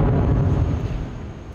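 Distant explosions boom during fighting in besieged Bakhmut, a deep low rumble that swells at the start and slowly fades across the short stretch, with no voices heard.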